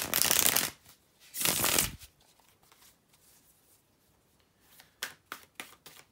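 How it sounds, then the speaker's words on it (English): Tarot cards being shuffled by hand, two long loud riffling bursts followed by a quieter pause and then a series of short crisp card snaps near the end, no voices. "bear with me just a second, guys, to shuffle the tarot cards."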